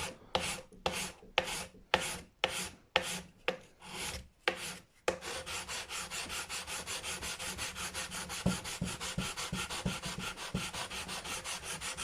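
Rhythmic filing strokes on the nut of a Gibson Les Paul guitar, first about eight slow separated rasps, then a fast continuous run of short close scrapes as the nut height is taken down.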